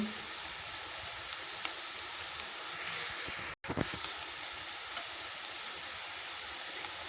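Chopped onion sizzles steadily in a hot pan as it roasts to golden, a continuous bright hiss with a brief dropout partway through.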